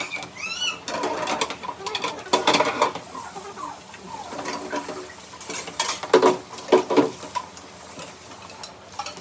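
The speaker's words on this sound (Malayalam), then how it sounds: "ഞങ്ങൾ വർത്താനം പറഞ്ഞിട്ടാണ് ഞങ്ങൾ പാത്രം കഴുകാട്ടോ" Pots, plates and cutlery clatter and clink in a home kitchen at night as dishes are washed, with irregular bursts of scraping and knocking and faint bird calls in the background.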